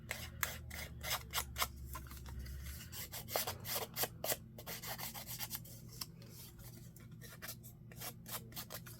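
Scissor blades scrape repeatedly along paper edges in quick rasping strokes, distressing journal pages, close and quiet, with a low hum beneath at first.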